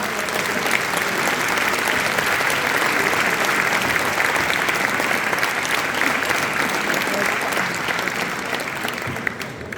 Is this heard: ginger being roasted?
no